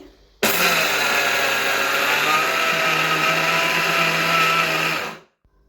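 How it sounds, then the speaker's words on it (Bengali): A blender grinds soaked rice in one continuous, loud, steady whir lasting about five seconds before cutting off abruptly, with no talking over it. "তো এদিকটা হচ্ছে আমি ব্লেন্ড করে নিচ্ছি।"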